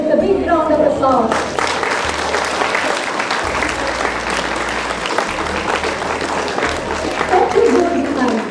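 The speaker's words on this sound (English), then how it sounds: "let us all congratulate them with a big round of applause" Audience applause at a school Sankalpa Divas event, a dense, loud, sustained clapping that fills the whole stretch, with a voice speaking over it at the start and near the end.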